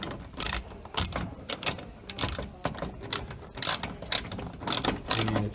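Ratchet tightening a bolt during a roof installation kit fit on a late 1986–1996 Corvette, close-up rapid clicking bursts of the pawl in irregular strokes with brief pauses between, no talking.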